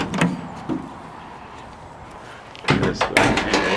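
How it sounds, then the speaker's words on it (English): A vehicle door is opened partway through, a sharp latch click and thunk followed by broadband rattling, after a quiet stretch with a couple of soft knocks at the start. "I'm gonna walk around real quick and open up the other door,"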